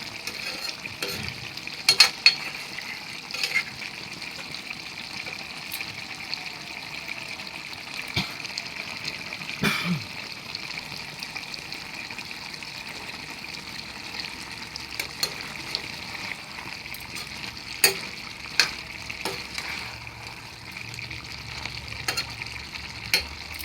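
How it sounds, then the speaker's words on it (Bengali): Chicken pieces sauté in a pan with liquid not yet cooked off, a steady close sizzle with bubbling and intermittent stirring scrapes and clinks, no voices. "আমি দশ মিনিট এভাবে মাংসটাকে কষিয়ে নেব কারণ জলটা রয়ে গিয়েছে জলটা এখনও টানেনি"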